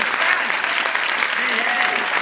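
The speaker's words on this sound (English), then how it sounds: "will you give a huge round of applause" Audience applause at a community event in Madison, Wisconsin, honoring a community radio news director; dense, loud clapping fills the whole stretch, with a voice faintly under it.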